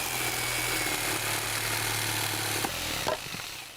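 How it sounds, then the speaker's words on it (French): In a cartoon, a jigsaw cutting wood planks for a shelf gives a steady, loud, buzzing motor drone that stops abruptly near the end, followed by a couple of brief knocks. "je vais t'apprendre à te servir d'une scie sauteuse pour couper les planches de l'étagère"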